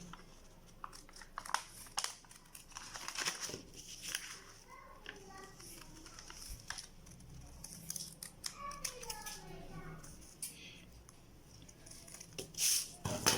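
Scissors cut shoe pattern material at close range, giving irregular snips and crinkly paper-like rustles that are faint and sporadic, with brief speech-like fragments heard in places.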